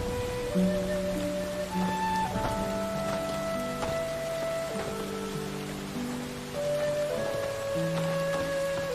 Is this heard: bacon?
no